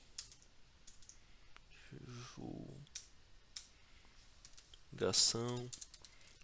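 Keys clatter on a computer keyboard as a word is typed, with soft scattered clicks under intermittent nearby speech.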